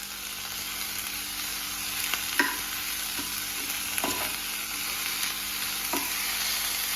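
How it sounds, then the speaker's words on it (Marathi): Chopped capsicum and onion sautéing in a pan, a constant loud sizzle with a few scraping strokes of a spatula stirring the pieces, and no voices. "आपण व्यवस्थित शिमला मिरच आणि जो कांदा आहे तो व्यवस्थित परतून घेतला"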